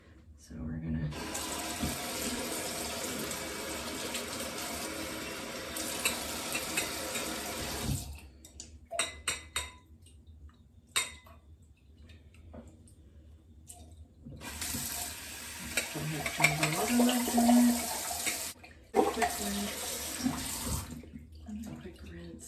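Makeup brushes rinsed under a running tap at a sink, water gushing steadily in two long bursts with a quieter gap of drips and handling between, close and fairly loud, with a person talking at times.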